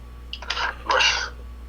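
A single person's sneeze, a short sharp burst with a brief first onset followed by a louder main blast, fairly close, with no talk over it.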